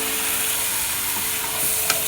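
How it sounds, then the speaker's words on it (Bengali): Marinated chicken stir-fried in spice paste for chicken curry, a loud, dense, continuous sizzle close up, with one brief scrape of the stirring near the end and no voices. "মশলার সঙ্গে চিকেন ভালো করে কষিয়ে নেব।"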